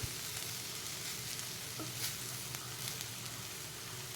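Kankoda (spiny gourd) vegetable cooking in a pan over low heat gives a steady, close, even sizzle throughout, with a few faint clicks like a stirring utensil touching the pan and no talking.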